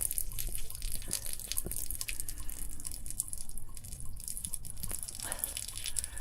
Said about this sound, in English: the drain is draining down the entire water system